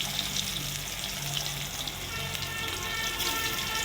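Pointed gourd fries in hot oil in a wok with a steady, dense hiss and crackle that holds without pause throughout.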